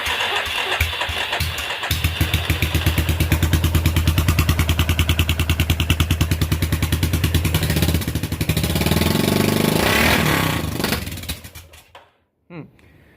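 A turbocharged Yamaha Big Bear ATV engine starts and runs with a loud, steady clattering idle and rhythmic firing pulses that rise in pitch, then cuts off abruptly near the end, leaving a brief quiet tail.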